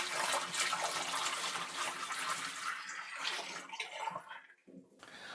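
Water mixed with RV tank treatment gushes down a shower drain in a steady rushing pour that tapers off and turns into a few sloshes and drips near the end.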